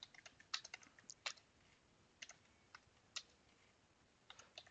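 Code being typed on a computer keyboard in irregular bursts of light, crisp keystroke clicks with short pauses, close and quiet, no talking.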